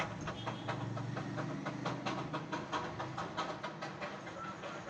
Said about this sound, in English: Bye bye toy train, see you again.